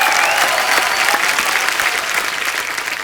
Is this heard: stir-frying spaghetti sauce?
no